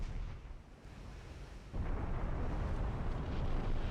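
Naval gunfire from a battle cruiser's heavy guns in the warship game Ultimate Admiral: Dreadnoughts, a deep booming blast that swells into a sustained rumbling roar, loud and continuous with no talk.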